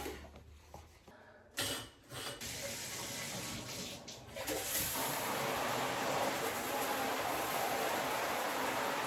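Tap water runs steadily over a potted philodendron in a bathroom sink, a continuous rushing wash that starts after a few clunks and stays loud and close to the end.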